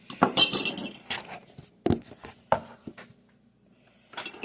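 A drink being mixed in a glass, with close clinks and knocks of a utensil against the glass in uneven bursts and quiet gaps between them.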